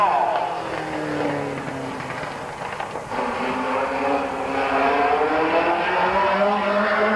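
The number 12 Genesee Special race car runs a qualifying lap at Midvale Speedway, its engine a steady droning roar with shifting pitch as it circles, moderately loud and continuous.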